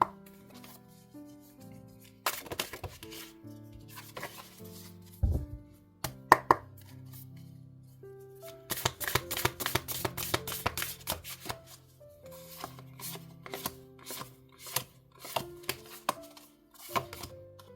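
Tarot and oracle cards shuffled and handled close up, a series of crisp riffling bursts and soft rubbing slides with scattered taps in quiet surroundings, no one talking.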